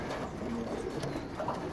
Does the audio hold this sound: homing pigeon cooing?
yes